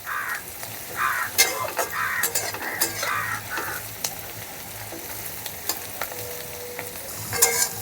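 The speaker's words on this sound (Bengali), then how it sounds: "সব ভেজিসকে হাই ফ্লেমেই ভেজে নেব।" Vegetables for egg fried rice stir-fry over a high flame, with a steady sizzle, spatula scrapes and clinks close by, and a few harsh caws in the background early on.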